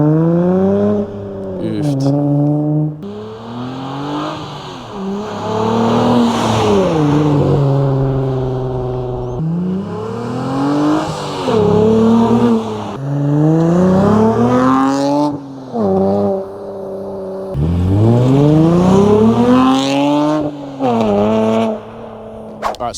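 A Hyundai Tiburon sports car engine revs loudly as it drives past several times, rising and falling in pitch with each acceleration and gear change.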